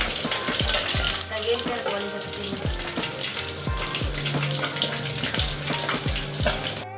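Tilapia fish frying in hot oil, a loud continuous sizzle and crackle close up, punctuated by regular knocks of a utensil against the pan.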